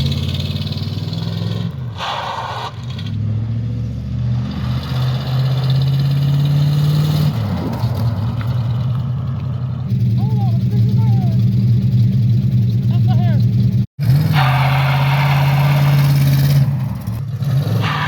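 A car engine, just started with a working key, idles steadily with a low, even rumble, close and loud, as people chat over it and the pitch briefly rises a couple of times.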